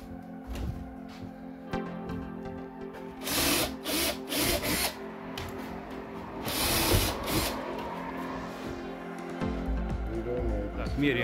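Self-tapping screws are driven into wooden imitation-timber cladding on a country house. Short whirring bursts from a power screwdriver and wood creaks come through, with steady background noise and speech nearby.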